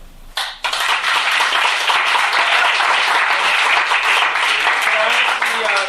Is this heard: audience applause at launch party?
yes